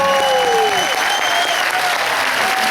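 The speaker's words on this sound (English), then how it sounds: "give them the biggest round of applause" Applause from an audience welcoming home Vietnam veterans, a steady dense crowd clapping throughout, with sliding whistle-like tones or cheers rising above it.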